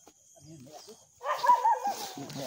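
A dog barks sharply a couple of times, fairly close, after a quieter stretch with faint background sounds.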